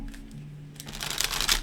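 Playing cards are shuffled by hand, with a quiet pause and then a quick burst of riffling snaps that grows louder and crisper toward the end.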